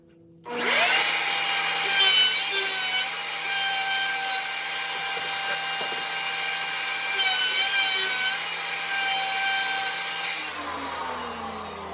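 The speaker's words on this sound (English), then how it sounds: "Now we go to router." A power router shaping wood for a hawk knife handle, a loud steady whine that spins up, holds with slight pitch wavers as it cuts, then winds down alone without talk.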